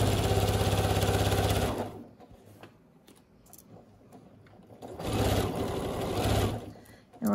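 Sewing machine stitching around the edge of a tote bag, a loud rapid mechanical whirr in two bursts with a quiet pause between, near and prominent.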